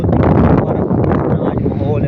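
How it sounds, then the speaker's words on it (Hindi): Strong, gusty wind blows outdoors after heavy rain, a steady loud roar buffeting the microphone for the whole moment, with talk underneath. "तेज़ खतरनाक हवा चल रही है"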